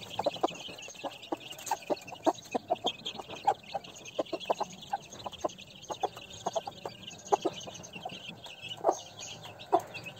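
A broody hen clucks repeatedly in short, rhythmic bursts while chicks gather at feed, the calls close and moderately loud over soft background noise.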